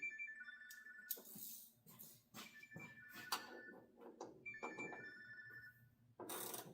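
A telephone rings in repeated electronic bursts in a garage while a hood and front bumper are aligned on a 1972 Buick Centurion, with clatter and workshop noise between the rings.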